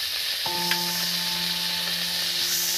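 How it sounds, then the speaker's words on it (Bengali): Cauliflower fries in oil for a mixed vegetable dish, a steady hissing sizzle close by, joined partway through by a sustained tonal hum that persists to the end. "ফুলকপিটা ভাজা হয়ে গেছে,"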